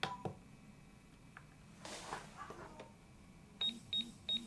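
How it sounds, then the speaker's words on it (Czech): Three short, evenly spaced high beeps from a FrSky X12S Horus radio-control transmitter signalling that a stick or knob has reached centre position, heard faintly over quiet room noise and handling clicks. "když mám středovou polohu, tak mi to prostě pípne"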